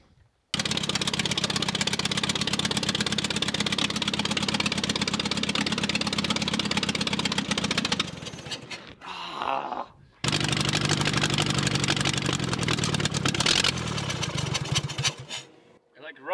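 Engine of a Tractomotive TL10 loader running low on gas, a steady close idle for about eight seconds before it stumbles and cuts out, then catches again and runs before dying.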